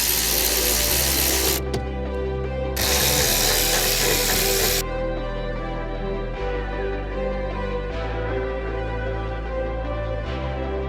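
A power tool driving out T15 screws from the airbox cover of a C8 Corvette E-Ray hard top convertible: a steady motor whine with two louder, harsher bursts of spinning in the first half, then quieter running.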